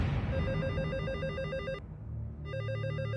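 A telephone rings with a loud, repeating electronic trill that pauses briefly and resumes, filling the whole moment with no talking.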